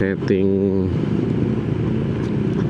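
A Yamaha Stylo scooter engine idles at night with a low, rapid putter; a voice speaks briefly at the start over it.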